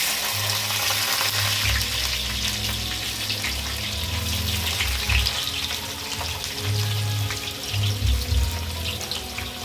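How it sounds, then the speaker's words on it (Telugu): Onions and green chillies frying in a pan with biryani masala and a bay leaf, a steady broadband sizzle with low clattering and stirring bumps throughout, loud and close, no talking. "ఇప్పుడు మనం ఉల్లిపాయలు పచ్చిమిరపకాయలు వేస్తాం"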